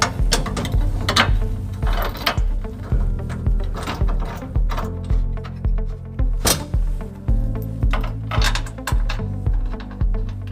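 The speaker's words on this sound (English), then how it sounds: "we're going to put the bolts that we took out earlier, we're going to put those back into place." Bolts being reinstalled by hand for a trailer hitch on a 2008 Toyota Tacoma, with a loose bumper: steady metallic ratcheting clicks and clanks repeat in quick bursts close up throughout, without talk.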